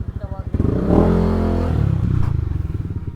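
A motorcycle engine idling close by, its steady pulsing putter running throughout while a person talks over it.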